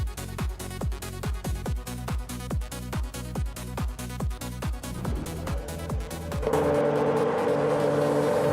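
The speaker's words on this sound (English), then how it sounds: "the race is kicking off at Anna Pergusa, and it's the F1 1996 class" F1 1996 class race cars in a racing video game, lined up at Enna Pergusa, with rapid rhythmic engine revs pulsing in quick succession before merging into a sustained rising roar as the field launches.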